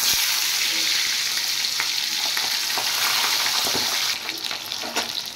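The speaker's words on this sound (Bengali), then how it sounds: "এবার মাছগুলো আমি ছেড়ে দিচ্ছি।" Pabda fish sizzle and crackle loudly in hot oil, a dense steady frying hiss with sharp pops that eases slightly near the end.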